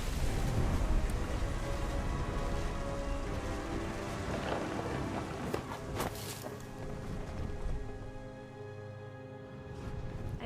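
Steady rain patters continuously on surfaces during a storm in the video game What Remains of Edith Finch, with faint low rumbles of distant thunder beneath the dense hiss and no talking.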